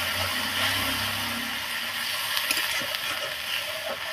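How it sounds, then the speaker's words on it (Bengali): Water hits a sizzling spice mixture in a pan, producing a loud, broad hiss and bubbling with faint stirring scrapes, continuous and close. "তো এখন এর মধ্যে অল্প একটু জল দিয়ে দেবো।"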